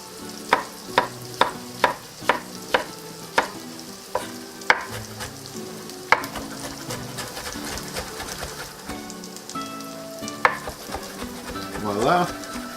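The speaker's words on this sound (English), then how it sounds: "Now we're gonna slice our tomatoes." A knife slices fresh tomatoes on a cutting board, a run of about a dozen crisp, evenly spaced chops up close, then sparser cuts among light kitchen clatter and soft stirring.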